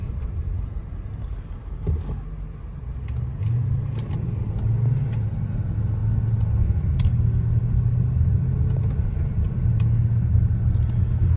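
A 2017 Range Rover with air suspension driving along a rough road, a steady low engine rumble and road noise rising slightly as it picks up speed, close and continuous, with no talking.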